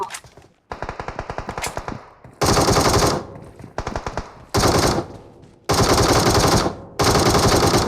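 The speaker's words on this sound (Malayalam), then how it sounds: "വെടിവെപ്പ് നടക്കൂടാ" Machine gun fire in the video game PUBG comes in several loud, rapid bursts, each a dense rattling stream of shots with short gaps between them.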